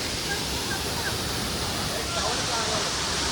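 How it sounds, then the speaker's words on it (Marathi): Rushing water of Dhangar Waterfall near Badlapur pours in a dense, steady roar that fills the whole clip at constant loudness, with no pauses or breaks. "मला दाखवतो आता धनगर वॉटरफॉल."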